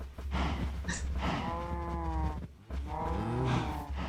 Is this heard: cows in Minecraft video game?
yes